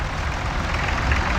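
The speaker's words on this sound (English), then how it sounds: "another Fordson N, a green Fordson N, has been converted to a diesel engine" A green Fordson N tractor converted to a diesel engine runs steadily at a vintage tractor and machinery show in Fife, its loud, continuous engine rumble filling the moment without talk.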